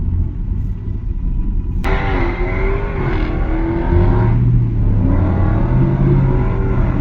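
Land Rover Discovery engine pulls hard under acceleration, a loud, close, rising rumble with a sudden jump in pitch as it shifts, then a steady climbing drone, with no talking.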